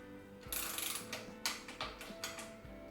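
A torque wrench ratchets while tightening bicycle stem bolts to 5 Nm in a diagonal pattern, giving a quiet series of close, sharp clicks in an uneven rhythm.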